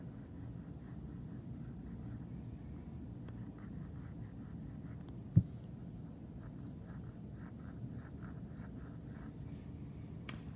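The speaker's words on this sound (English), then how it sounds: "I am using the side of the pencil." A pencil held on its side sweeps across paper while drawing a circle, giving a steady, soft scratchy rustle that runs continuously with one brief sharp tap midway.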